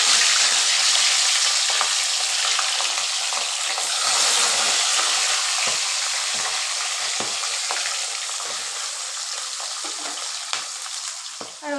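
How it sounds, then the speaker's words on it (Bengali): Pabda fish fry in hot oil in a kadai, a strong, steady close-up sizzle with occasional spattering crackles and light stirring sounds throughout. "মাছগুলো এবার হালকা করে একটু ভেজে নেবো"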